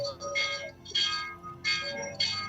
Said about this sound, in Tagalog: wapin rin kampana na po ning parokya na ning San Agustin na po.